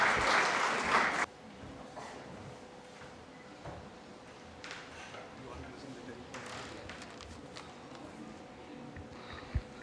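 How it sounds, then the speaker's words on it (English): At the ICE Awards 2016 ceremony, an audience bursts into loud applause as Abhijit Nair walks a ramp to the stage. The clapping cuts off after about a second, leaving a quiet hall with faint voices and occasional taps. "So let's applaud Abhijit as he does his ramp walk to the stage."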